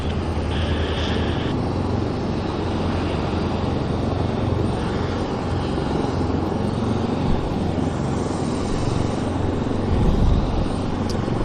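A jet airliner landing at Vancouver Airport, a steady broadband engine roar that stays loud and continuous throughout, with a deep low rumble and a slight swell near the end.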